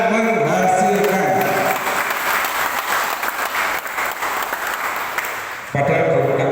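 Applause from attendees at a village development planning meeting, a full steady round of clapping that follows a spoken passage, with a voice returning at the end.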